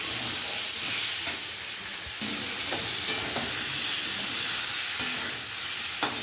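Fish curry masala for a rohu curry with ridge gourd and potato sautés in a pan, a steady close sizzle and hiss broken by scraping stirs and a few sharp spatula clicks, with no talking.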